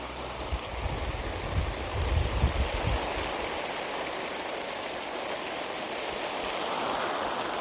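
Outdoor splash pad pool with water toys spraying and splashing steadily on a windy day, a continuous close hiss of falling droplets with heavier splashing early on.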